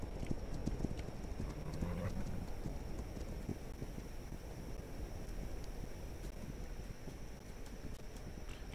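Horses gallop in a cavalry video game, a busy spread of hoofbeats clattering continuously at moderate distance under wind-like noise.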